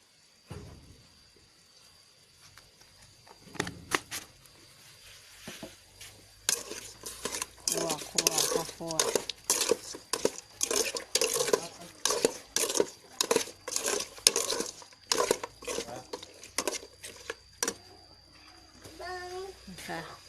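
Lemongrass stir-fried in a pot for Thai chicken curry with pickled bamboo shoots, with a spoon repeatedly clanking and scraping against the metal in quick bursts while someone talks over it.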